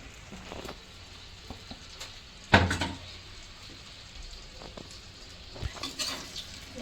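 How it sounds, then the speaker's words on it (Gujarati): Stuffed eggplants stirred in oil in a pan: one loud clatter of a utensil against the pan, then soft scraping and light sizzling with a few faint taps. "હું એકવાર બધાએ સરસ મજાના હલાવી લઉં"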